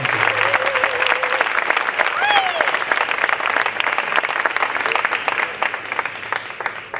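An audience applauds the jury at a song contest final, steady crowded clapping lasting several seconds, with a few raised voices and whoops briefly cutting through near the start.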